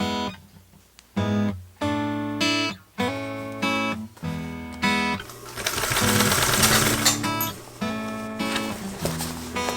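Sewing machine stitching a fabric repair patch, running in repeated short bursts of rapid mechanical whirring separated by brief pauses, close and clear with no talking.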